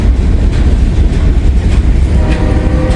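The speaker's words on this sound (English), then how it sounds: "there goes the locomotive" Freight train locomotive rolling past close by on a snowy railroad, a loud, heavy rumble with rhythmic rail clatter throughout, no voices.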